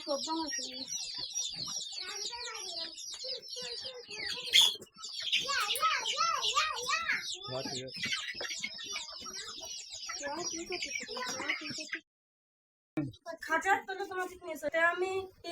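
Native chickens cluck and squawk in a cage as they are carried home, loud and close, with busy overlapping calls, a brief silence near the end, then more clucking.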